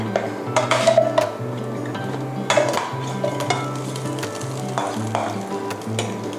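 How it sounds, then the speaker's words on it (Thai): Slices of Chinese sausage frying in vegetable oil in a pan, a continuous close sizzle with intermittent clatters and scrapes of a utensil stirring and flipping, plus a steady low hum in the background. "เราจะต้องทอดกุนเชียงนะคะ ให้เหลืองทั้งสองด้านก่อนนะคะ"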